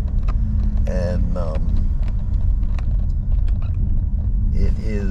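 A car's engine rumbles steadily as it climbs a steep, narrow one-lane mountain road in the Smoky Mountains, loud and continuous, with people talking over it inside the cabin.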